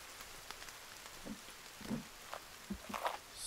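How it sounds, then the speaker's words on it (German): Heavy rain in the survival video game The Forest, a faint steady patter with scattered louder drops, soft and distant with no talk over it. "Aber es regnet gerade so viel"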